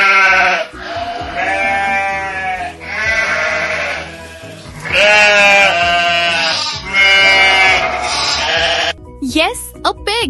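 A sheep bleats repeatedly in loud, wavering calls close by, several in succession, ending with a brief higher-pitched sound.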